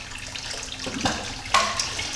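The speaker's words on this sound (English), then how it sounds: "I just normally fill the bucket up to just past the 10-gallon mark." Water running from a tap into a bucket during a reef aquarium water change, a steady close splashing and pouring with a couple of sharper sloshes.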